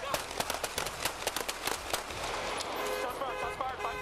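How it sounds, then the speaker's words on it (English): Gunshots fired during a police confrontation on B Street, a rapid string of sharp, loud cracks in quick succession, then a short lull with further scattered shots, under a shouted voice. "Shots fired, 530 B Street."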